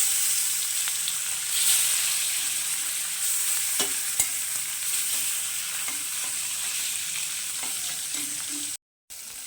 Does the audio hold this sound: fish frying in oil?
yes